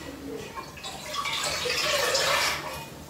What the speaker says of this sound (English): I'm adding water now, and I'm adding just this cup of water, this one cup of water.